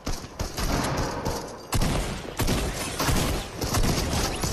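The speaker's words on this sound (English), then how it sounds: "I hear an infantry rifle." Rapid infantry rifle fire crackles through a chaotic video game battle, with dense overlapping shots and bursts running steadily throughout and sharp onsets punctuating the din.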